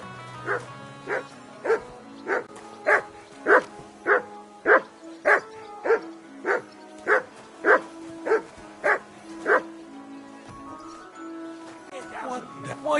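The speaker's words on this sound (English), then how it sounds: "What does that mutt want over here? Call off that dog." A dog in Kingdom Come: Deliverance 2 barks repeatedly in a steady, evenly spaced series of about fifteen loud barks, then stops, with a low hum underneath.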